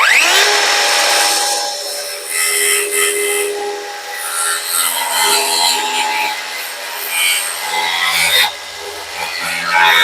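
A power saw cuts through a wooden rafter with a loud, sustained whining rasp that wavers as the blade bites, its fence catching on the bottom, with no voices.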